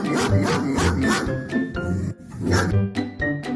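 A fierce mother dog guarding her puppies barks at a man trying to take them, a close series of loud, rhythmic barks with short pauses between bursts.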